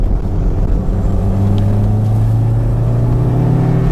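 A Toyota MR2 Turbo with an E153 transaxle, LSD and more power drives up a mountain road, its engine droning loud and close as revs climb steadily under interior road rumble.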